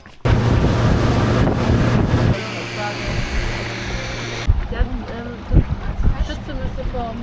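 A boat pulls away on the Rio Dulce in Guatemala, loud engine and wind roar for a couple of seconds, then steady water rush, and voices talk briefly near the end.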